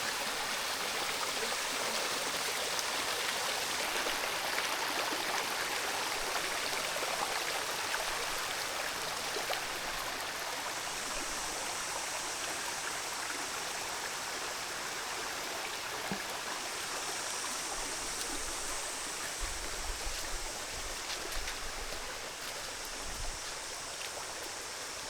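Stream water rushes at Lenthiriya waterfall in Makandawa, Sri Lanka, a steady, dense roar of flowing water that continues unbroken from start to finish with no voices.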